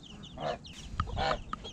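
Chickens and young chicks out in a yard give a few short clucks and faint chirps, quiet and close, in a brief uneven run with no talking.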